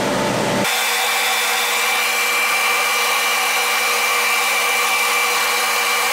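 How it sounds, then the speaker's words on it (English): AC TIG welding on aluminum at 115 amps: a loud, steady, harsh buzzing hiss starts abruptly after a brief lead-in and holds unbroken, close and continuous. "I'm gonna run the first weld, just getting after it, and you'll see how it's frosty."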